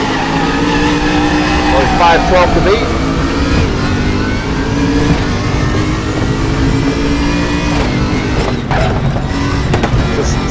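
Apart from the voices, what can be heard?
BMW Z4 race car engine revving, RaceRoom video game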